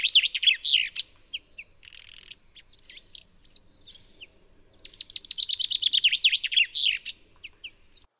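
A common chaffinch sings clear, close, bright song phrases. Rapid trills run through a series of falling notes, with scattered short calls between the phrases and a quiet background.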